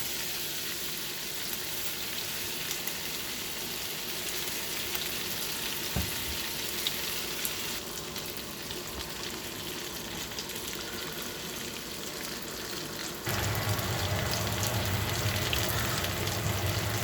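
Onions frying in a pan with bacon fat, a steady crackling sizzle that continues throughout and grows slightly louder and denser toward the end, with no talking.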